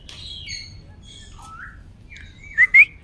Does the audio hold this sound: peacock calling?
yes